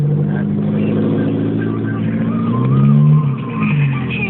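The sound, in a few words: small car engine revving through loud exhaust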